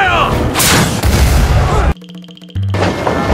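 Heavy cannon fire booms out loud and close as a sustained roar of blasts, cut off by a short quieter gap before the rumble resumes.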